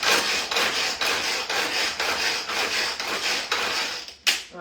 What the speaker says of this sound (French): je vais mettre directement dans le tornado et le nombre de coups que vous allez tirer sur la ficelle va déterminer un petit peu la taille de votre résultat final